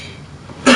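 A single sharp cough into a podcast microphone bursts out near the end after a quiet stretch, loud and close.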